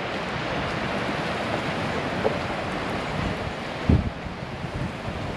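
Steady wind blowing at a lakeside campsite in Australia, a constant loud roaring rush buffeting the microphone, with a brief thump near the end and no talking.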